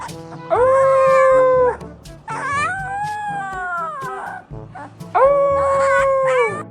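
A husky puppy howls in long rising and falling wolf-like notes, three drawn-out howls close and loud, with a voice howling along beneath that imitates the sound.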